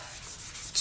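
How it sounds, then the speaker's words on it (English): Fine-grit sandpaper rubbing over a coral cane bracelet in steady, close strokes, a soft continuous scratchy hiss with a brighter surge at the end. "So I'll just be sanding from the 400 grit all the way up"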